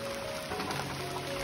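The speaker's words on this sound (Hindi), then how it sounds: "इतनी ज्यादा जोर से बारिश हो रही है ना बाहर" Steady hiss of heavy rain falling outside at night in a mountain village, a soft, even wash of drops on surfaces with no voices.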